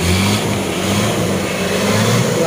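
A car engine revving and holding at raised RPM, a steady loud drone with a rising tone at the start that then settles into a sustained hum.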